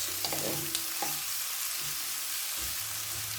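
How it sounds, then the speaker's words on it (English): Onions and garlic fry in sesame oil with a soft, steady sizzle, with a few light clinks early on and a faint tonal backing underneath. "So a little bit of sesame seed oil. You want to add your onions and garlic. Let these cook for a few minutes"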